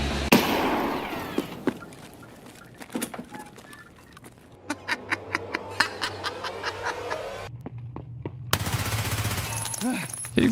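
Gunfire in a first-person shooter, with sharp single shots and then a rapid burst of automatic fire at close range. Game ambience and brief noise run underneath, with no talk.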